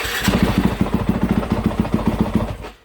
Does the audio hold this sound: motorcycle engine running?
yes